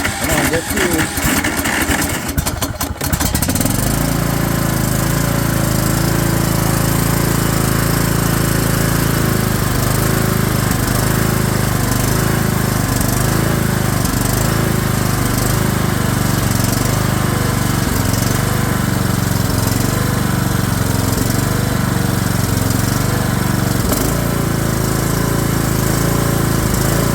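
A Cub Cadet XT1 lawn tractor engine with carburetor and fuel shut-off trouble runs steadily after a rough start, a loud, close, continuous engine drone with a brief burst of clatter at the beginning.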